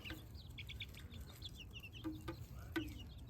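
Young chicks clucking and chirping in a backyard run, with a few short, faint calls scattered over steady low outdoor background noise.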